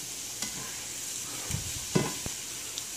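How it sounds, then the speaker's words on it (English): Cut-up chicken fries in a 12-inch Green Earth nonstick pan with a steady, moderate sizzle, broken by a few brief utensil scrapes and taps while it is stirred. "cooking some cut up chicken. You can see it's not sticking at all. It's cooking evenly."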